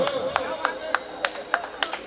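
An audience at a live Marathi prabodhan talk show claps in sharp, evenly spaced bursts about every third of a second, one clap after another, moderately close and over a steady background hum.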